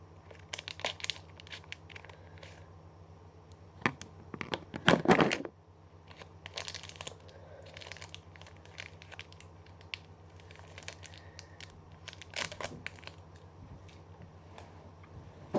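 Food packaging crinkles and tears as it is cut open, with quiet scattered rustles and a louder ripping burst partway through, and no voices.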